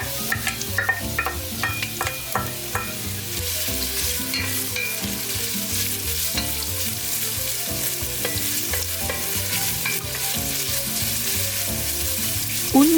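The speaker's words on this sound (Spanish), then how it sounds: "Ahora vamos a poner a calentar un chorrito de aceite en una cacerola y sofreiremos la cebolla." Chopped onion sautés in a splash of hot oil in a saucepan, sizzling steadily and loudly up close while a utensil stirs and scrapes against the pot in irregular knocks.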